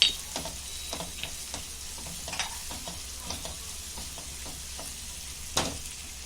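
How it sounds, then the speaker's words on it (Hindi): Chicken masala frying in a pan with turmeric added, a steady faint sizzle under repeated scraping and stirring strokes, with no voices. "हल्दी को भी अच्छे से भूनेंगे"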